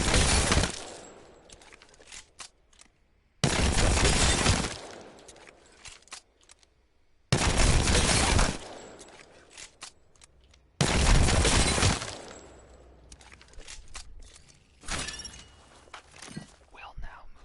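Light ammo guns fire in the Apex Legends firing range in four loud, sharp bursts with short pauses between them, each followed by quieter clicks and handling noises.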